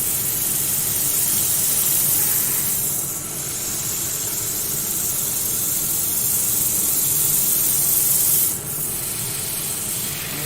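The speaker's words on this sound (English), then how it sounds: "Keep the inertia reel sander moving so you don't ruin the shape of" An inertia reel sander works steadily against a gear, giving off a continuous close hiss that dips briefly twice as it shifts across the surface.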